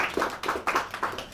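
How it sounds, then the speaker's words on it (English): Clapping from a lecture audience after a speaker's introduction, a brief burst of a few distinct, close hand claps in quick succession. "Please join me in a warm round of applause for"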